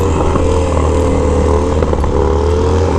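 A couple of Harley-Davidson motorcycles wheelie on a street, their engines a loud, steady, close rumbling drone with throaty low harmonics and a slight waver in pitch.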